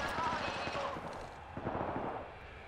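Faint gunfight in the video game Apex Legends: rapid bursts of automatic gunfire crackle at a distance, low in level and brief.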